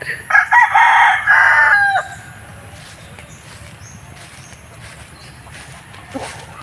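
A rooster crows loudly and close on a Philippine range farm raising chicks and pigs, one long call, then the yard settles into a quiet hum with faint distant clucks and a soft bird note; nobody speaks.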